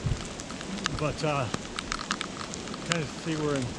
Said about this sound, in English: Of course, it's been raining all morning on us.